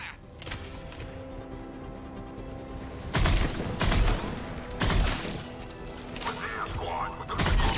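Heavy gunfire in Mass Effect 3 comes in several loud, dense bursts separated by stretches of mechanical whirring and clatter, with no talking.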